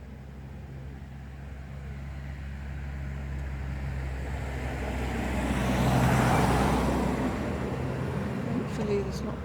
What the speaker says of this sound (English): Thankfully there's not much traffic tonight